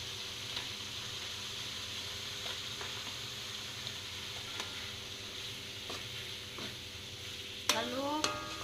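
Spring onions sauté in a pan for an Indonesian dish, giving a steady low sizzle with occasional scraping stirs of a utensil, and a sharper clatter of stirring near the end.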